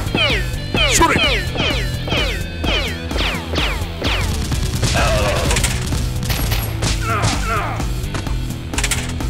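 Rapid toy foam-dart blasters fire in a busy volley during a Nerf mod battle, sharp repeated pops and clatter layered over loud shouting and excited voices throughout.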